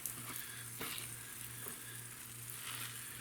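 Hardwood pellet bedding for a worm bin being stirred and mixed by hand, a steady gritty rustle with soft scraping swells over a low background hum, no one talking.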